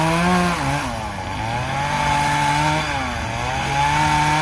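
A chainsaw runs steadily and loudly throughout at an outdoor timber show, its engine pitch dipping and rising as the throttle shifts, with no voices.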